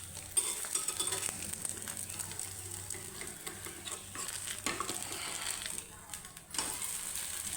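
Small puffed rice patties shallow-frying in a little oil in a pan, giving a continuous gentle sizzle broken by scraping and stirring clatter from a utensil, close and moderately quiet, with no voices.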